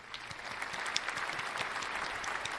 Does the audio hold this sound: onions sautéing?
no